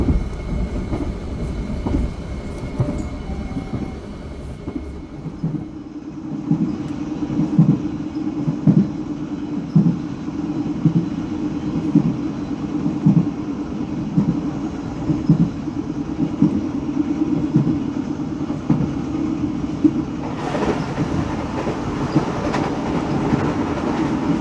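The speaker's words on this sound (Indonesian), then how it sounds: "sesaat lagi kita akan berpapasan dengan lokomotif livery garis biru yang berdinas" From aboard a moving train, a steady rhythmic clickety-clack of wheels on rail joints goes on under a rumbling hum. Near the end, a blue-stripe locomotive hauling the Pasundan service passes close by with a brighter rushing swell.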